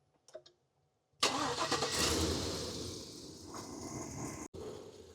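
A GMC engine is started after a throttle body fault and idle relearn. It cranks briefly and catches with a loud roar, then settles into a steady idle close by, following faint voices at the start.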